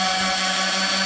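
A loud, steady whine of a power sander on a butcher block countertop runs continuously at close range, with no break or change.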